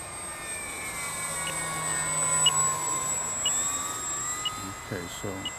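Steady airplane engine drone in a flight simulator game, a continuous whine with faint tonal harmonics held throughout, with a few soft clicks near the end and no talk.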